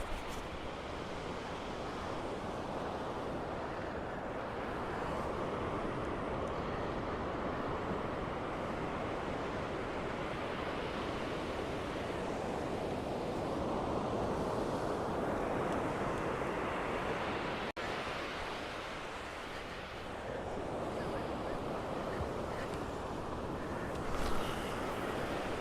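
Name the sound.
sea waves breaking on a beach while fishing for whiting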